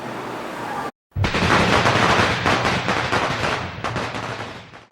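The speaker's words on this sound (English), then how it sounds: "Traditional Chinese custom is setting off Firecrackers." Firecrackers set off for Chinese New Year, a dense, loud burst of rapid crackling pops after a brief bang and pause, continuing for several seconds with no talking.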